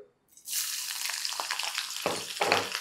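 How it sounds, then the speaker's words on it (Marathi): Garlic frying crisp in hot oil for Pandharpuri chivda, a steady bright sizzle that starts abruptly after a short silence and continues with crackling bursts and occasional stirring. "लसूण देखील खरपूस तळायचं"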